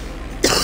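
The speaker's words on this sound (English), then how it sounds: "Sorry if I'm gonna be coughing most of the day today." A single short, sharp cough close to the microphone, at the very end of a near-silent moment.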